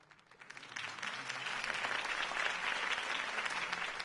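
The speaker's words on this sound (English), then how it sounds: "If only Mr. Wayne, my campaign's largest backer, could have heard that applause" Crowd applause from an in-game rally audience after Harvey Dent's campaign speech in Batman: The Telltale Series, a dense wash of clapping that swells in within the first second and holds steady and loud to the end.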